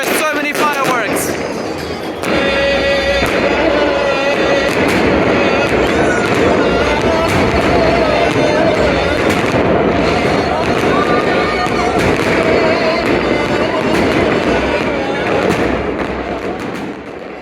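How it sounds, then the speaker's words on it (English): Fireworks at the Festival of the Cross in Maaloula, Syria, crackling and thumping continuously through a dense, loud outdoor din, with crowd voices and talk mixed in. "there are so many fireworks!"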